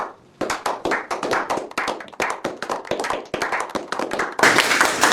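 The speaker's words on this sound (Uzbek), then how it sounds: "Ishtirok uchun bir qarsak chalib qo'yaylik" A small group claps in a steady run of hand claps lasting several seconds, with the sound growing denser and louder near the end; no talking over it.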